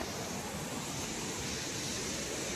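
Rain-swollen stream water rushes forcefully in a dense, continuous roar close by, steady throughout with no voices.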